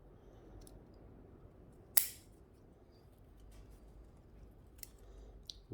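Scissors cut back leaves on a carved olive bonsai, giving one crisp snip in an otherwise quiet setting, followed by a few faint clicks of handling.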